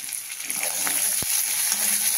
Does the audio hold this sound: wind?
no